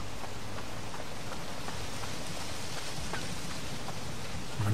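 Steady rain in the video game Pineview Drive patters evenly and continuously as a dense, fairly loud hiss of drops with no voices over it.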